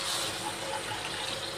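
Water poured from a small glass into a pan while making Maggi noodles gives a short, steady splashing gush, fairly quiet and continuous for under two seconds.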